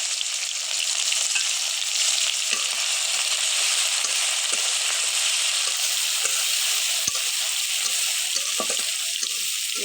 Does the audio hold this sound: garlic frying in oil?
yes